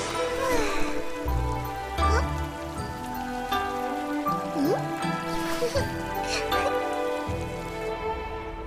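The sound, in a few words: wind and falling rain in an anime scene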